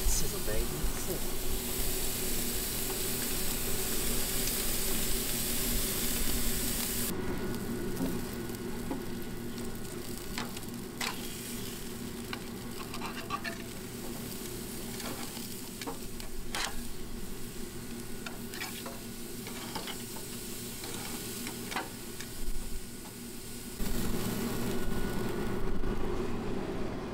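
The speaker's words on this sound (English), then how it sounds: "Sizzle, baby, sizzle." Food frying on a campsite grill, a steak seared about four minutes per side, hisses and crackles in a steady close sizzle throughout, with a brief change in tone partway and someone talking over it at times.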